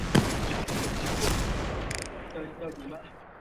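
Dense bursts of rapid gunfire crackle through a video game battle, loud and continuous, with excited voices talking over the shooting.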